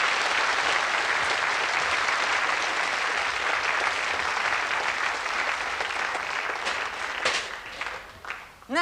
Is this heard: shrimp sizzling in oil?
no